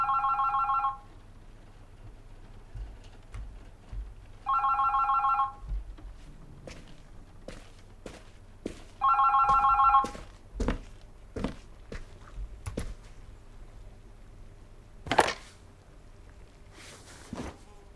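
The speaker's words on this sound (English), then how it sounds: "Oh, the phone." Three bursts of a telephone ringing in The Berlin Apartment game, evenly spaced several seconds apart, followed by faint clicks and footsteps in a quiet room.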